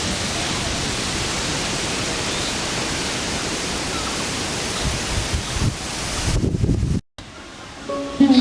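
Rain and wind sweep over a Bengali village in a steady, loud, hissing roar that fills the air for several seconds, then cuts out abruptly and returns quieter, with a few faint tonal sounds near the end.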